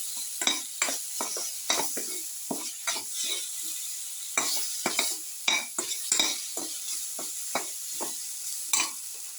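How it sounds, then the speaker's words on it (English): Tomatoes sautéing in a pan with garlic and spices, a soft continuous sizzle broken by repeated sharp scrapes and clinks of a utensil stirring and crushing against the pan, close and with no talk. "Keep on sauteing. Crush the tomatoes and the rest of the ingredients in the sauce."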